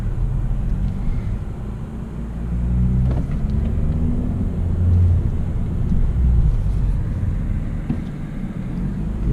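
A 2017 Honda Civic Si with a manual clutch pulls away and drives on an empty road; its engine and road noise make a steady, close, low rumble that swells slightly as it gathers speed, with no talking.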